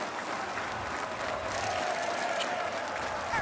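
A large crowd applauding and cheering at an esports finals event in Rio, a dense, steady roar of clapping that holds at even loudness throughout.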